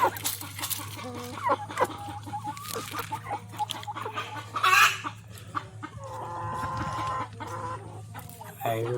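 Chickens cluck steadily at a market, several birds close by with overlapping calls and squawks over a constant low hum and faint background chatter.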